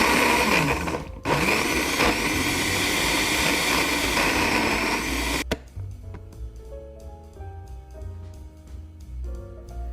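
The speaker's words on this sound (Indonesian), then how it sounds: "Lalu blender hingga halus." A kitchen blender pureeing potatoes roars loudly at full speed for about five seconds, then cuts off abruptly, leaving quieter background music.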